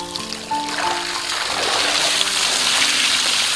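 Water gushes steadily from the output pipe of a gravity-fed drum pump drawing from a deep river, a close, continuous rushing splash that starts abruptly and stays loud and even.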